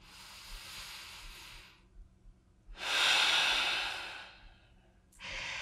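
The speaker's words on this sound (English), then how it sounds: "pausing for a full breath in and out." A slow, full breath in and out during a calming movement and stretching session, heard as soft airy inhale and exhale noise alone with quiet pauses, close and gentle.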